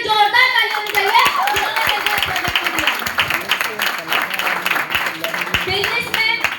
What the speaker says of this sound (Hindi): काले मैम के लिए जोरदार ताली होनी चाहिए।